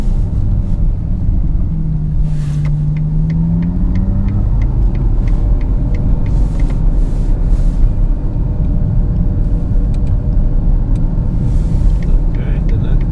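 Ferrari GTC4 Lusso V12 engine and exhaust heard from inside the car while driving: a steady low rumble with a brief rising tone of acceleration, continuous and fairly loud throughout.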